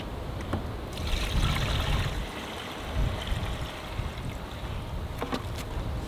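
Water is poured into the tank of a Milwaukee Switch Tank battery-powered backpack sprayer, making a soft, uneven trickling and splashing at close range, quiet throughout, with no talking.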